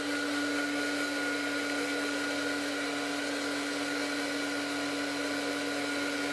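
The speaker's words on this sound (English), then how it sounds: "Now, then there's the heat tool." Heat tool drying mixed-media craft pages, a steady whirring fan hum with a strong constant tone held evenly throughout, close and continuous with no talk.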